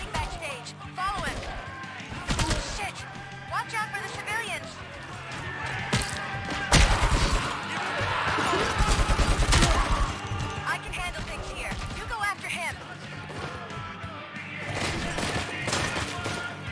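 Gunfire in the RoboCop Remastered video game, rapid bursts of shots and crashing impacts that come and go across the stretch, mixed with game music, effects and voices talking.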